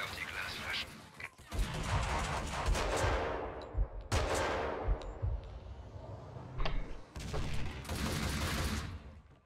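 Sustained gunfire in the Max Payne 2 video game, with bursts of automatic fire and heavy blasts repeating across the scene, loud and continuous with short pauses.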